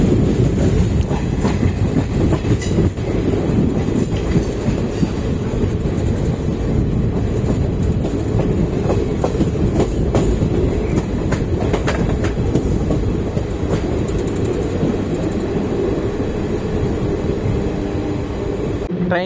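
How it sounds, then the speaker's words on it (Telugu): Seshadri Express (train no. 17209) running on rails out of Bangalore, a steady loud rumble of wheels and carriage noise with faint clickety-clack, continuous throughout. "ట్రైన్ యొక్క ఫస్ట్ స్టాప్ అండి కృష్ణరాజపురంకి రీచ్ అవుతున్నాము"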